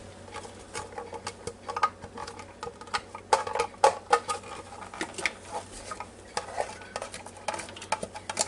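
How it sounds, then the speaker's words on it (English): Vegetables tipped into a Ninja Foodi pot for chicken noodle soup create irregular clattering, patter and scraping against the pot, fairly close and loud, with no talk. "fixing to dump these veggies in there"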